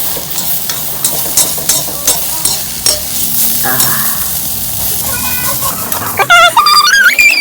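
Omelette frying in a pan, close sizzling with scraping taps of a utensil, then a high whistling tone near the end.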